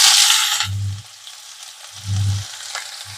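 Chopped onion sizzling as it drops into hot oil with mustard seeds and cumin, a hiss fading over the first half second, then two short low rumbling bursts of stirring or frying under a steady faint crackle.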